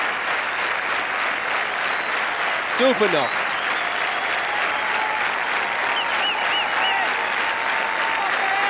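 A cricket crowd at an England versus Holland match applauds a batsman at the end of an innings, steady sustained clapping with a brief voice heard over it.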